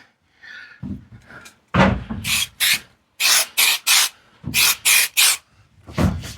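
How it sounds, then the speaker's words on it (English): Dodo matte spray cleaner spritzed inside a Sprinter campervan: a run of sharp, close hissing bursts, several in quick succession with short gaps, preceded by some softer rubbing and handling noise. "Get new rag and the Dodo matte spray. I just wipe those as well."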